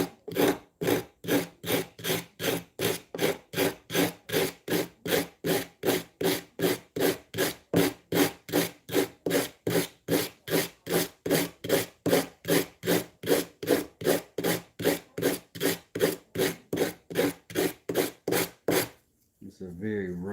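Rough sandpaper rubbed back and forth over a wooden handle in steady, even strokes, loud and close, about two strokes per second for nearly twenty seconds before stopping.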